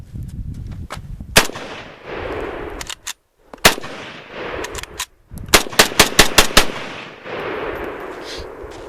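An SKS rifle, caked with mud from a mud test, fires a string of rounds outdoors. Loud sharp cracks come singly with gaps at first, then as a quick run of shots, each followed by a short rumbling echo.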